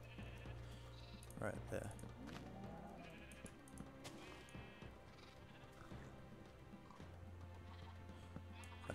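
Sheep bleat in the video game Minecraft, several short wavering cries alongside horse neighs and hoof clip-clops, while a person talks over the game sounds.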